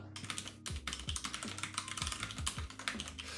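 Fast typing on a computer keyboard, a close, rapid patter of key clicks with a few heavier thumps, continuous and with no voice.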